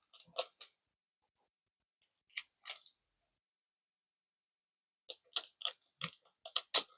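Scissors snip open a Pokemon card booster pack in short clustered bursts of sharp cuts separated by silent pauses, close and crisp with no talking.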